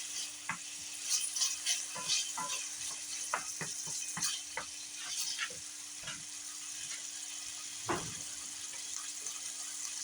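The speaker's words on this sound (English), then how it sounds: "I'm just going to brown this up a little bit" Ham browns in a pan on a stovetop, giving a steady, quiet sizzle broken by scattered sharp crackles and pops, with a faint constant hum underneath.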